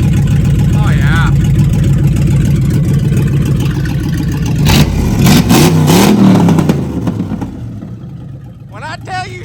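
A Dodge Dakota R/T pickup engine runs loud and close, idling roughly and then revving hard in a few bursts before settling, with people talking over it.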